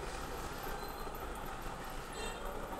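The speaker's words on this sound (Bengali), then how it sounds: "পাশে আবার মেট্রো রেল আছে" A Dhaka metro rail train runs near Mirpur 10 station, a steady broad rumble of wheels and rail noise with faint high squeals over busy street ambience.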